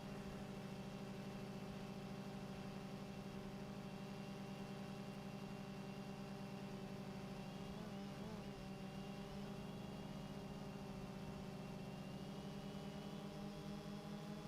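A center pivot irrigation system starting up at a well, with a truck engine running nearby, gives a steady, close droning hum with even low tones that holds throughout, wavering briefly midway.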